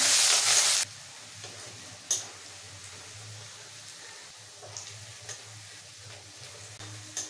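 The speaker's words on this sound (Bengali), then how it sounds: "তেলের মধ্যে গোটা গরম মশলা ফোড়ন দিয়ে দিলাম, একটা তেজপাতা, পেঁয়াজ কুচি, পেঁয়াজটা ভাজতে থাকবো" Chopped onion frying in oil with whole garam masala and a bay leaf, a soft steady sizzle under an opening burst of hiss, with a few light stirring clicks and taps.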